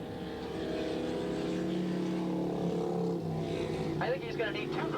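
600cc single-cylinder racing motorcycles pass on the track at Willow Springs in a 1986 race, a steady, loud engine drone with shifting pitch, under a commentator's continuous talk.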